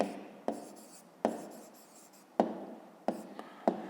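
Pen on paper writing out a handwritten answer to a math exercise, soft close scratching strokes with a few sharper taps as each word starts, with quiet breathy sounds alongside.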